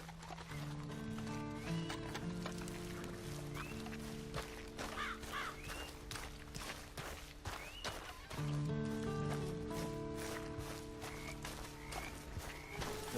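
Steady clip-clop of horse hooves in an even rhythm in the video game Red Dead Redemption 2, with a low droning tone and occasional bird-like calls in the background.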